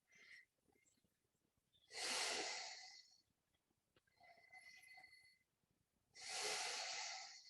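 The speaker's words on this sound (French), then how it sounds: "on respire profondément" Deep breathing during a guided meditation and stretching session: two long, loud airy breaths with a softer, shorter breath between, close and alone with no talking.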